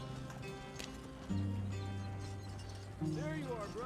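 Horse hooves clip-clop in the Red Dead Redemption 2 video game, a rhythmic trotting gait mixed with game music tones and a brief mechanical ratchet.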